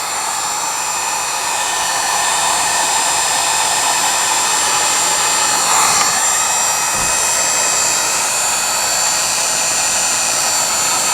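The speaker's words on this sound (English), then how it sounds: "So what I may do is just put a little bit more heat on here, just in case." A heat gun roars steadily as it blows hot air onto a part of a Philco 41-245 radio during restoration, a loud, continuous, close whoosh with only slight shifts in tone.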